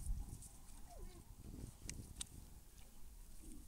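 A goat bleats once, briefly and a little distant, outdoors on a farm by a fishpond, over rustling and faint background noise.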